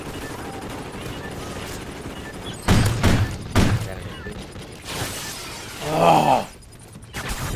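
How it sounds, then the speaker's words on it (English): Call of Duty Ghosts multiplayer gunfire from a single-fire gun shot in rapid succession: sharp cracks in short loud clusters over a quieter game background, with a brief exclamation from a voice. "Like that single fire gun, you fired it like it was a freaking machine gun."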